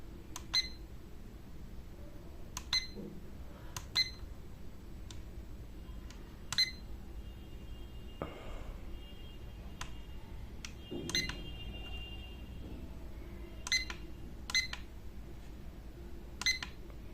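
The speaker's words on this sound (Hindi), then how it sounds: "हम इसे थोड़ा ज़्यादा सेट करते हैं ताकि हमें पता चल सके ये अलार्म प्ले होता है या नहीं होता।" Repeated short electronic beeps from an LED alarm clock being tested, coming in brief clustered bursts across the clip against a quiet room background, fairly close and clear.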